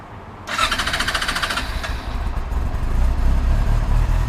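A Yamaha R6 motorcycle engine cranks briefly with a whirring starter, catches and settles into a loud, close, rumbling carbureted idle that builds slightly over time.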